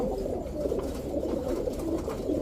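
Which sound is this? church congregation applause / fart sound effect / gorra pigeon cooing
gorra pigeon cooing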